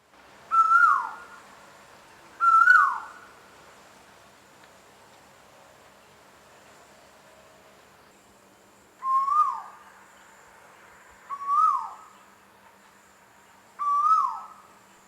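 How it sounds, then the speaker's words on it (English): A forest bird whistles a simple melody, five clear, separate whistled notes, each a short rising then falling phrase, spaced a few seconds apart with a long pause in the middle, over quiet, faint background buzzing. "the birds slow down and they whistle relatively simple melodies."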